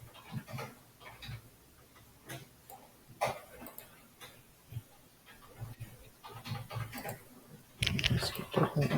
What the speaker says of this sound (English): So you guys keep typing there.